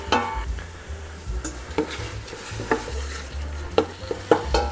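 Ingredients sauté in olive oil for Thai coconut curry soup, a spoon stirring and scraping the pan in repeated strokes over a constant close sizzle, loud and without talk.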